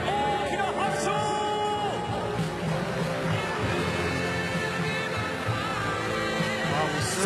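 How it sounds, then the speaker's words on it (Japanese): A home stadium crowd applauds the Fukuoka SoftBank Hawks at their league championship ceremony, a dense, steady roar of clapping and cheering with an amplified announcer's voice carrying over it early on. "選手、コーチ、監督の皆さんへ大きな拍手。"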